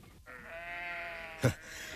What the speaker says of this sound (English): It was Alf Thompson driving his sheep across the road.